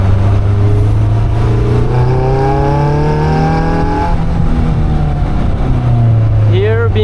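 Caterham 340S engine revving hard with instant throttle response on a drive, loud rising and falling rev sweeps with a dip near the middle, under excited talk from the driver.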